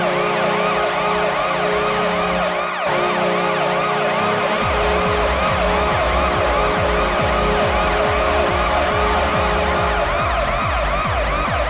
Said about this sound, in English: As much as I don't like the police siren, like, it wasn't bad.